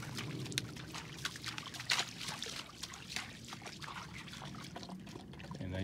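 A dog laps up water close by beside a 1973 GMC motorhome, with uneven splashing and trickling sounds that go on throughout and no talking.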